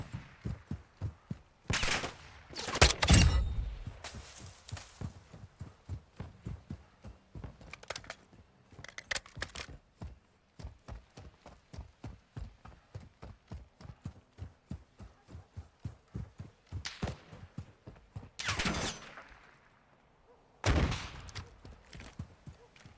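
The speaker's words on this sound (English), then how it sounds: "They're firing when they don't even see me. They're literally check firing." Gunfire in the shooter DMZ, long runs of evenly spaced single shots from a distance, punctuated by a few louder close bursts near the start and toward the end, with no talking.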